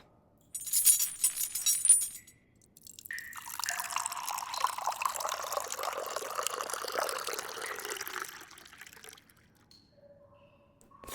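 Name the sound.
water being poured, audio drama sound effect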